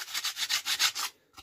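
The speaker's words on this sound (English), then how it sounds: "get a bit of sanding paper, get these little nodges off the back" Sandpaper rubs rhythmically over a fencing-wood birdbox, about seven quick close strokes followed by a pause and one last rub.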